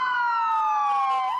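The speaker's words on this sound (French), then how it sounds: "Les ambulances vont à vive allure." An ambulance siren wails on a largely empty New York street, a loud, steady tone sliding slowly downward as the vehicle passes close by.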